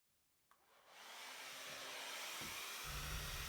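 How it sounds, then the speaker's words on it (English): A hair dryer clicks on and rises into a steady, close whooshing blow as it pushes gold epoxy resin across a resin art piece, humming on without interruption. "Using a hairdryer to push the tester's gold resin towards the fire glass"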